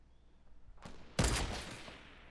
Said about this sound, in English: he's shooting over the base